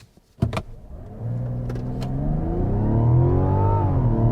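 A Mazda CX-90 SUV in sport mode floored from a stop at full throttle, the engine note climbing steadily and loudly after a brief clunk and click at launch.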